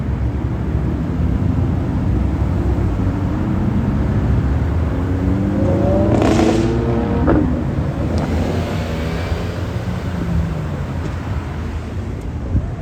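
A Lamborghini engine revs loudly outdoors, its rising note surging mid-clip over constant wind and road roar, then settling back into the steady rumble.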